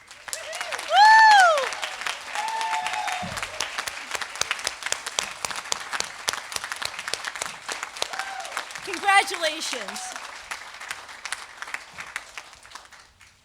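Audience at a community salute event applauds standing enlistees, a loud swell of clapping and a cheer that settles into sustained, moderately loud applause with a voice briefly heard over it.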